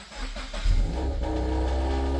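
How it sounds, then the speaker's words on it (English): A Mercedes engine cranks and fires up after a drop-in kill switch install, catching around the half-second mark and settling into a steady, close idle with a low rumble, no voices. "With the leads connected, the vehicle should start."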